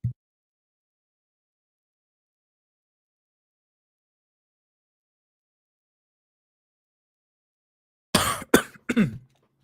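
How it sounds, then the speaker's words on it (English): After a long stretch of silence, a few harsh coughs come in a quick cluster near the end, close and fairly loud. "I'm gonna be coughing all night."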